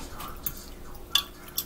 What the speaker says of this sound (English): And then he's just gonna mix it all together